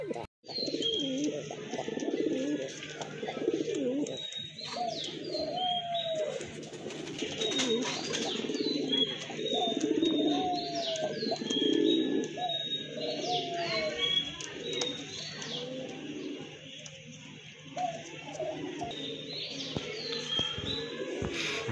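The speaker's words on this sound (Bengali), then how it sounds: "মাশাল্লাহ এক জোড়া চুইনা কবুতর, অনেকে চুইনা কবুতর পছন্দ করেন।" A pair of white Chuina pigeons coo softly and repeatedly, with scattered chirps from other birds in a pigeon loft and occasional faint voices in the background.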